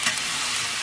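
Chicken curry with spices frying and being stirred in a pot, a loud close sizzle with scraping stirs, brief and without talk.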